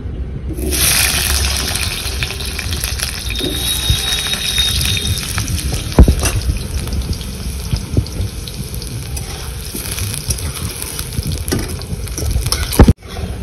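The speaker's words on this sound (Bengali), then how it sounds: "আর আলু প্রায় হয়ে এসেছে লাল লাল করে ভাজা" Potatoes fry in hot oil in a pan with a loud, steady, close sizzle throughout, broken by a few sharp clacks and a hard knock near the end, with no talking.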